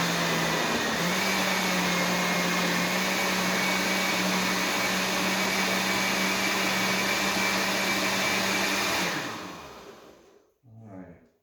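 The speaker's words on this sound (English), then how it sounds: "So I am going to just kind of blend this a bit." An electric blender running steadily through a pot of seafood creole, a loud continuous whirring drone for about nine seconds before it winds down and stops, with a few faint sounds after.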